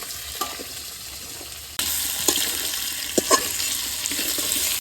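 Sliced potatoes and onions sizzle loudly in a hot pan of oil, a steady close frying hiss that jumps in level as more go in, with occasional scrapes of stirring.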